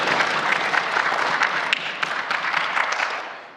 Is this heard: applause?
yes